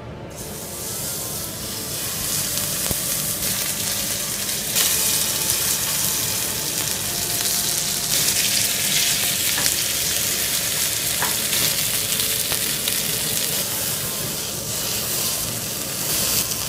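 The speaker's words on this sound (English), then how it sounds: "I think the reason why you have to sear it is because the hard crust will keep the moisture inside" Beef searing in a hot pan for a beef Wellington, a loud, dense, continuous sizzle and hiss that holds steady throughout, with faint shifts as the meat is moved.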